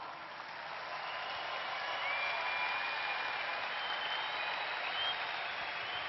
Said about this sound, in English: Can you please give them the biggest round of applause?